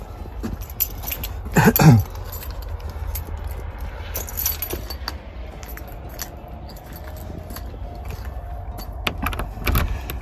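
Keys jangle up close while a garden shed in a snowy winter garden is unlocked, followed by scattered clicks, knocks and a creaking door. Outdoor ambience runs underneath.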